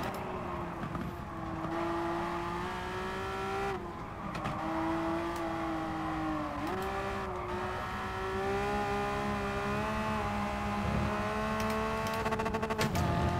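A race car engine in the racing game GT Sport drones steadily at high revs. Its pitch drops sharply several times as it shifts down through the gears, with faint tire noise in the background.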